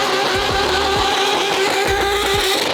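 McLaren 720 GTR race car doing a brake burnout on an LA street, a loud sustained engine roar with a steady high tone and repeated deep pulsing bursts throughout, close and continuous.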